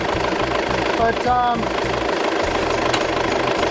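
A vehicle engine idles in cold air, a steady low rumble with a knocking pulse running throughout, while someone talks over it.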